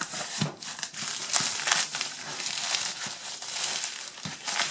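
Careful handling of the original cardboard box and protective coverings of a 1978 Coleman stove, giving close, irregular crinkling and rustling with small knocks throughout.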